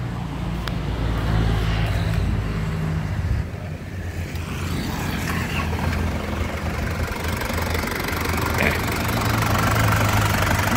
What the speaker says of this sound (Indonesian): Ini suara mesinnya lur ya.